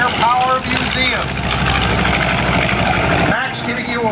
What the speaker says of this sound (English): B-25 again from the American Air Power Museum.